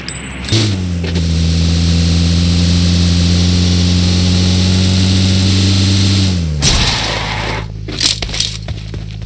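A loud, steady buggy engine drone in PUBG Mobile holds for several seconds, then drops off abruptly, followed by a few scattered clatters.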